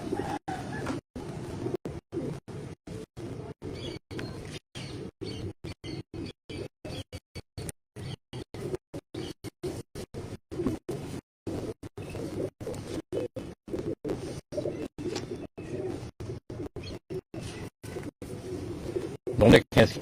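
Pigeons of a prized breed cooing softly in low repeated murmurs, with someone talking throughout in choppy, broken-up bursts over the birds.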